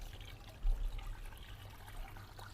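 Roughly two litres of water poured into a cooking pot holding chicken, a quiet steady trickle and splash close by, with no talking.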